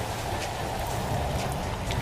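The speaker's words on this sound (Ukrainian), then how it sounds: "тут може бути дощ" Steady rain in the Roblox-style disaster game Natural Disaster Survival, a constant even hiss of drops on surfaces filling the scene, with no voices over it.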